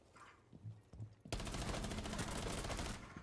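Sustained rapid gunfire in the tactical shooter Rainbow Six Siege breaks out suddenly after a few faint clicks and thuds, then continues loud and close to the end.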